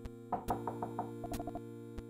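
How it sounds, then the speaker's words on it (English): A short series of light knocks on a door in the video game Phantasmaniac, about eight quick raps in two groups, quiet and close over a steady background music hum. "You hear a knock on the door."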